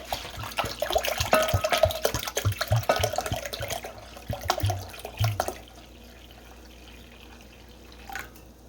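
Apple juice pours and splashes into a container for several seconds, gurgling unevenly, then stops, leaving quiet room noise.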